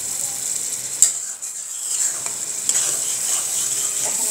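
A village-style tengra fish curry with little spice is stir-fried in a pan, a steady sizzling hiss with intermittent spatula scrapes and one sharp clink, heard close and without speech.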